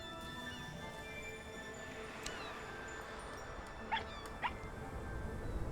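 A dog barks a few times in the video game RiME, two short, fairly distant barks near the end over a soft, sustained ambient musical backdrop.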